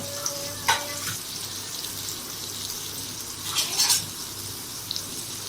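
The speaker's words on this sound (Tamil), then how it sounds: "வெங்காயத்தை நல்லா பொன்னிறம் ஆகிற வரைக்கும் நல்லா வதக்கிடணும்" Soft sizzling of onions sautéing in hot oil in a pan, with a few light stirring scrapes and clinks of a utensil.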